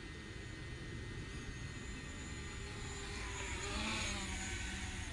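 A DJI Mavic Pro drone flies near a silo and power lines, its steady high-pitched propeller whine humming continuously at a moderate distance, with a faint broadband wind-like rush and no speech.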